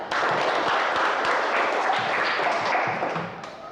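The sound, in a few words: classroom applause for group presentation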